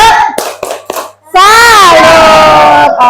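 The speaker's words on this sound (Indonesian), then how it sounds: "Kita kasih tepuk salut dulu untuk kelompok Bakso." A group performs the 'tepuk salut' clapping chant, with several sharp claps in a rhythmic pattern followed by a loud shouted chant in unison from many voices, close and energetic, ending with a final clap.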